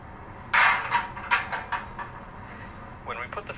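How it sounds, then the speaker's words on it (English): A metal frying pan set onto a stovetop burner at breakfast, a sharp clank followed by a few lighter knocks and rattles, close and fairly loud. "When we put the frying pan on the burner, the metal starts out pretty cold."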